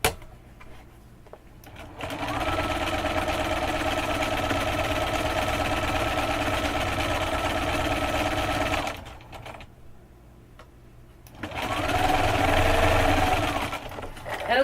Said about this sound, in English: fold them over like this and go ahead and sew them in place